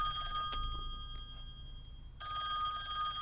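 An old-style telephone bell rings in the horror video game Song of Horror, a harsh electric trill that stops for more than a second, then starts again, close and loud against quiet room tone.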